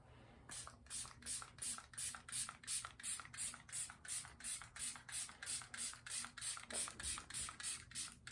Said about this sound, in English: Now I'm gonna set everything with the Jaclyn Hill X Robin setting spray.